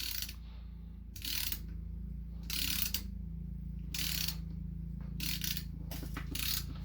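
A hand ratchet snugs transmission bolts on a 1998–2002 Honda Accord during a rebuild, giving several short bursts of quiet rapid clicking separated by pauses over a low background hum.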